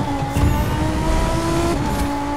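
Racing-game car engine from The Crew 2 hums steadily with a droning motor tone and slight pitch shifts, continuous and fairly loud throughout, with no talking.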